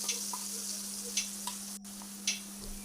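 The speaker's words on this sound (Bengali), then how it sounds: "এবারে মশলা দিয়ে দিচ্ছি, এখানে চাল মগজ দিয়ে দিচ্ছি" Spices and melon seeds dropped into hot oil for a vegetarian paneer dish, sizzling steadily at close range with a few sharp crackles and pops over a constant electrical hum, no voices.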